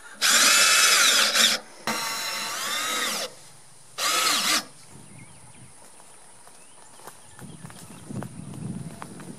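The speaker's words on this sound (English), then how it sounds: "put some screws through the side to hold it onto the 2x6" A power drill drives screws into a 2x6 board outdoors in a garden, with two loud whining bursts of the motor, a shorter mid-level run between them, then quiet handling noises afterward.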